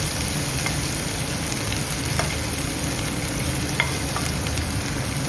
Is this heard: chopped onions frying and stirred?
yes